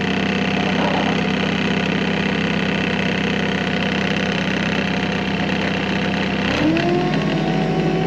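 A forklift engine runs steadily and close while being operated, a constant droning idle with a hydraulic whine that rises near the end as the controls are worked.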